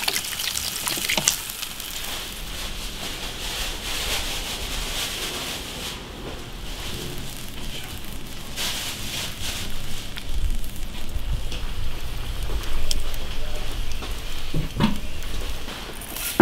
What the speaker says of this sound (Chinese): 拿一个猪肉，五花肉下锅